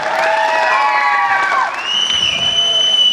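An audience at a Hindi poetry recital claps and cheers loudly, a dense roar of applause with whoops and shouts, while a few whistle-like tones ring over the crowd.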